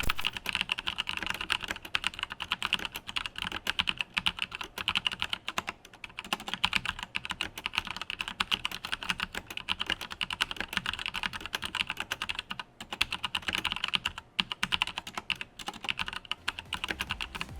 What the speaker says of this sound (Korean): 적축 키보드는 심심하고 청축 키보드는 시끄러워서 싫은 분들께 타건의 재미를 줄 수 있는 스위치입니다